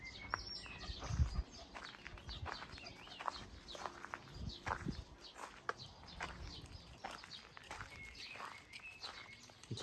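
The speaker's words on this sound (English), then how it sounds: "Lots of birds about." Birds chirp and tweet intermittently around a walled garden with fruit trees and pampas grass, short calls scattered over a soft outdoor background with footsteps and faint rustling.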